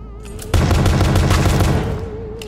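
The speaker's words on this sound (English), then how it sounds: "His gun is pretty accurate," Burst of gunfire from an enemy's gun in the horror video game Pony Nightmare, a dense rapid volley that starts abruptly, holds loud for about a second and a half, then tails off over a steady game drone.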